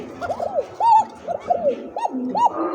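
Domestic pigeons coo close by in a rapid run of short, rising-falling calls, about seven in under three seconds, with low background noise from a loft of local and foreign breeds.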